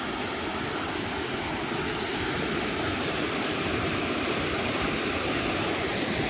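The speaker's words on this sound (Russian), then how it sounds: "это, наверное, не водопад, это больше такой порог красивый" Pezo river rapids rush in a dense, steady roar of turbulent water, loud and continuous with no voices.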